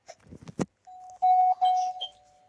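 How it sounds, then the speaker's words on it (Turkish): A video game doorbell rings with a sustained electronic tone in two or three pulses, preceded by a few short knocks and clicks, close and clear. "Zil çalıyor."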